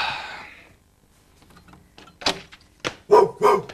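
A dog barks a few times, close and fairly loud, in short sharp bursts toward the end after a quiet start, with no talk over it.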